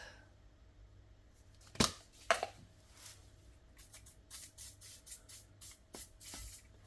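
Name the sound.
spraying rust solvent from a spray can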